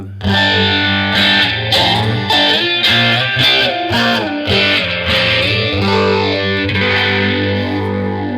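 A heavily distorted electric guitar strums a chord in rhythmic, repeated strokes, loud and sustained, with effects giving a thick, swirling tone.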